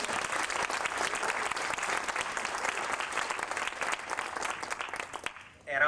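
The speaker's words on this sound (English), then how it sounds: "I'd like you to give yourselves a round of applause." A conference audience at a 1995 LEAN meeting breaks into loud, sustained applause, dense clapping filling the hall for about five seconds before cutting off abruptly as a voice begins.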